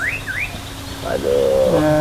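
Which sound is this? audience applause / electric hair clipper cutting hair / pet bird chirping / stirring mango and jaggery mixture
pet bird chirping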